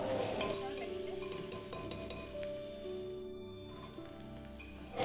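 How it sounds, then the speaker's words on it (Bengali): Chopped onions frying on low heat while being stirred, a continuous soft sizzle with occasional clinks of a utensil against the pot, fairly close. "এই পেঁয়াজগুলোকে অনেকক্ষণ ধরে খুব ভালো করে হালকা আছে ভাজতে হবে"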